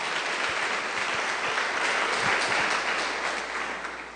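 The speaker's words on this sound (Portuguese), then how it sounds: "Dê uma salva de palmas para o Senhor Jesus." A church congregation at a communion service applauding, dense sustained clapping from many hands filling the room, steady and loud before tapering slightly at the end.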